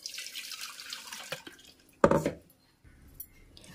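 Blended protein buttermilk strained into a vessel: a steady liquid pour and trickle, then a sharp clink and splash, followed by quieter dripping.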